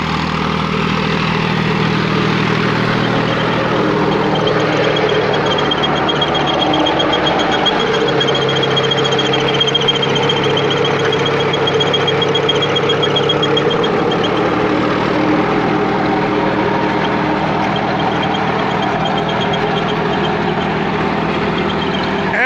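A tractor's diesel engine runs steadily at idle, a constant low rumble with a faint high whine, unbroken throughout.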